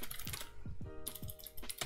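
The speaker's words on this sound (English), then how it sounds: "you are going to type in your file path for the local mod" Fingers tap out a file path on a computer keyboard, a quick, fairly quiet run of clicking keystrokes in irregular bursts, close up and alone.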